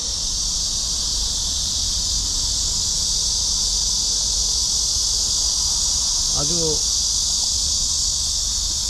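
A loud, continuous high-pitched drone of cicadas fills the scene, with a brief chirp briefly cutting through midway.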